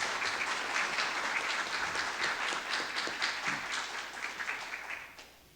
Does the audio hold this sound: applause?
yes